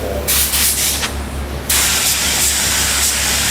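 A compressed-air cup spray gun sprays toner onto door faces in a loud, continuous hiss, with short on-off bursts at first and then one long steady spray.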